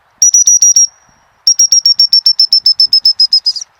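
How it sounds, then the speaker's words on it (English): Two bursts of short, sharp whistle pips from a gundog trainer's stop whistle, a quick run of five then a longer run of about fifteen evenly spaced blasts, loud and close in open countryside with no talk. "We'll try the stop whistle again now."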